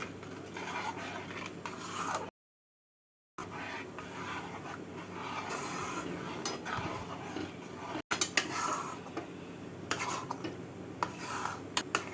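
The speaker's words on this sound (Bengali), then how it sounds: "সুজি দিয়ে ভালো করে ফুটিয়ে একটা শক্ত ডো তৈরি করে নিচ্ছি" Fried semolina being stirred into boiling liquid over a low flame to form a stiff dough, with continuous scraping and clinking of a spoon against the pot, close and steady, broken by a brief gap.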